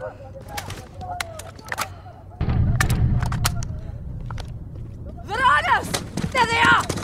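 Gunfire in a video game shoot-out against Russian soldiers, sharp repeated shots cracking near and far, a rumbling battle bed building midway, then louder bursts with shouting voices toward the end.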